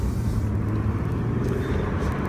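A 2007 Toyota Camry Solara SLE convertible with a 3.3 engine accelerates, heard from inside as a loud, steady low engine rumble with road noise, continuous and without speech.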